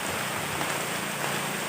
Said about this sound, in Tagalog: At talaga naman po tayo ay inabot na ng malakas sa ulan.